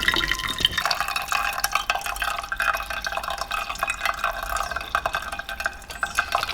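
Brisket stock poured through a sieve for birria tacos, a steady close splashing and trickling of liquid running continuously throughout with no talking.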